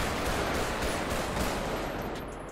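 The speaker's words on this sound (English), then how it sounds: "I am just shooting right now." Police gunfire in GTA 5 with the LSPDFR mod crackles as a dense, rapid burst of shots that blur into a steady roar, loud and close, fading slightly at the end.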